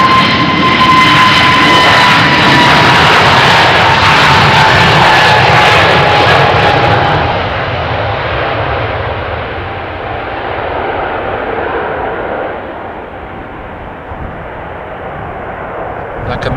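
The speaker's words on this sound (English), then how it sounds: "A320neo" Airbus A320neo jet airliner departing Amsterdam Schiphol, a loud engine roar with a high whine that gradually fades into the distance, a voice speaking over it.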